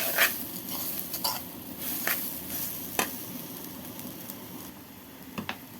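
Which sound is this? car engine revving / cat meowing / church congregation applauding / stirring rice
stirring rice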